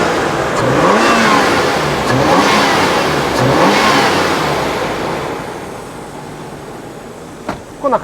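A warmed-up Nissan Skyline ER34 25GT-V with a five-speed manual is revved while parked, its engine rising and falling in several loud, close sweeps before settling back to a steadier idle.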